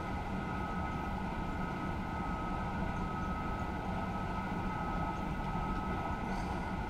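SNCF TGV Duplex high-speed train in Train Simulator 2016 on the Marseille to Avignon route, a steady low rumble and hum of rolling stock, faint and continuous with no talk.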